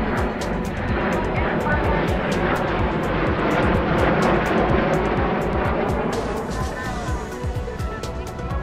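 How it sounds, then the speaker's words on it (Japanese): A Japan Air Self-Defense Force F-2 fighter jet flying past during the 2022 International Fleet Review, a loud, steady broadband roar that holds throughout and eases slightly toward the end. "続いては航空自衛隊 F-2 戦闘機です。"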